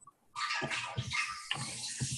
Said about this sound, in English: Somebody's running their faucet.